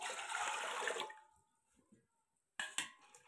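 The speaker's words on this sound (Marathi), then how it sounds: "मी 4 भांडी पाणी ओतून घेणार आहे." Water pours from a bowl into a cooking pot in a gushing stream for about a second, then goes quiet before a brief second splash.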